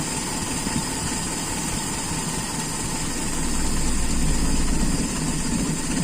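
A motorcycle engine fitted with an Aisan carburetor idles steadily up close during carburetor tuning, a continuous rumbling drone whose revs rise slightly partway through, no talk.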